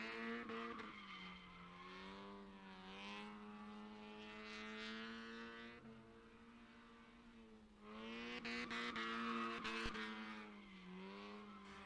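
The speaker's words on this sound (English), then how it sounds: "throwing this good old Miata around like he always does" A Mazda Miata drifting on a track, its engine holding a high, strained drone that climbs and falls as the car slides, heard from a distance and fairly faint, with no voices.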